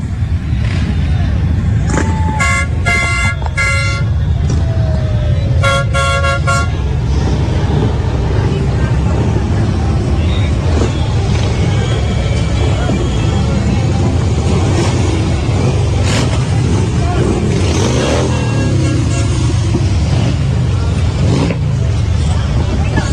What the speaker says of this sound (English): Hear the rumble of the Harley motorcycles as they come by.